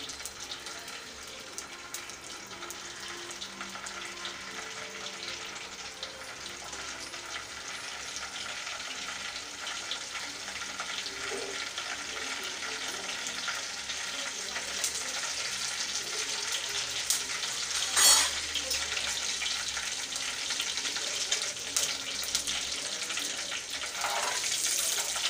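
Steady crackling and spluttering of mustard seeds popping in hot oil for tempering, continuous and fairly loud, with a sharper burst near the end.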